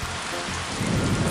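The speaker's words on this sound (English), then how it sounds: "It's raining." Rain falls steadily in a dense, hissing wash, loud and close, swelling a little toward the end of the short stretch.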